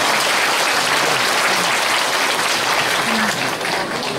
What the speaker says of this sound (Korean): 다시 한번 뜨거운 박수 부탁드립니다.